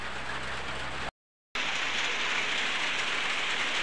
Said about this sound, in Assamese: ওপৰত পুৰা বৰষুণ দি আছে।